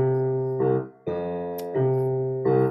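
A bass line with a Latin rhythm in a jazz setting, played as a few steady sustained low notes with rhythmic attacks, loud and alone without talk.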